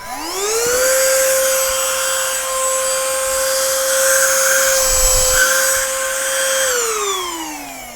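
A compact Gorenje MVC72HGA car vacuum cleaner runs on a microfiber cloth, its close, steady high whine rising as the motor spins up, holding for several seconds, then winding down at the end with no talking.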